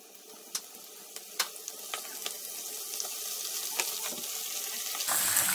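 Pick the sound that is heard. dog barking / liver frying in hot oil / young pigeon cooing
liver frying in hot oil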